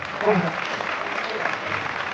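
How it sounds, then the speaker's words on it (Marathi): An audience applauds steadily at a college event in Pune, a dense wash of clapping that holds at even loudness for a couple of seconds. "जोरदार टाळ्या"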